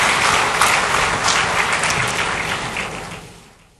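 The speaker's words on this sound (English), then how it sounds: "all of you should deserve a round of applause to all of yourself" Audience at the Slim Brand Excellence Awards giving a round of applause, a dense, fairly loud burst of many hands clapping that holds briefly, then thins and fades away.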